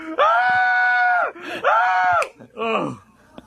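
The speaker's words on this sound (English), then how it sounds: "Screaming Homer rules." Homer Simpson's cartoon scream rings out loud and close in two long sustained wails, followed by a shorter strained cry trailing off.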